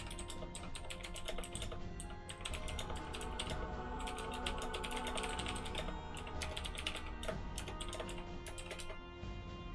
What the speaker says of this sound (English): I apologize for the loud mechanical keyboard there.